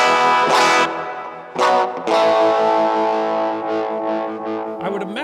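An electric guitar through a Motander SM65 phaser pedal, with a sweeping, pulsing effect, notes ringing out and swirling in and out over several seconds.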